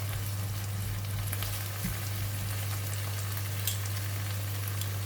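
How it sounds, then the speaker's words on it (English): An egg frying in onion oil in a pan, with a steady soft sizzle and crackle throughout under a constant low hum. "Just put in half of the onion oil. Put in the egg. Just need to cook the egg first."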